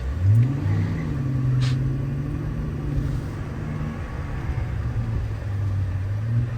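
A Mercedes S65 AMG rolls along at low city speed around 30 km/h, its engine giving a steady, deep rumble with light throttle blips, close and continuous throughout with no talking.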